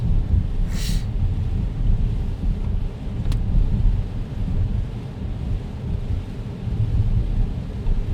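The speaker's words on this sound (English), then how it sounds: "Getting quite a bit of rain now." Steady, dense rain drumming on a car roof while driving at night near Binghamton, a constant low roar with no voices.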